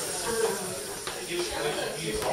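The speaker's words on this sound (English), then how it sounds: "Clams are steaming." Clams steaming in a pot release a soft, continuous hiss of steam, close by and fairly quiet, with faint rustles and knocks.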